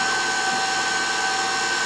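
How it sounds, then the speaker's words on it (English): Electric stand mixer whisking cookie dough made with Crisco, a steady, even motor whir with a high whine that runs unbroken for a couple of seconds. "now I'm gonna turn this baby on, and we're gonna whisk it all in this mixer"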